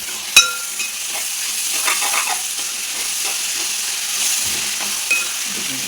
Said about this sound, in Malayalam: സവാളയും കൊച്ചുള്ളിയും കൂടെ നന്നായിട്ട് വരളം